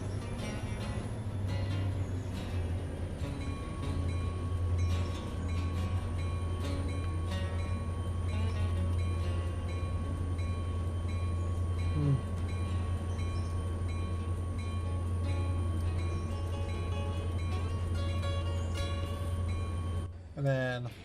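A freight train in the Trackside: Railroader video game rolls steadily with a continuous low rumble and faint clanks, with a higher metallic tone sustained throughout, ending with a brief jolt of couplings.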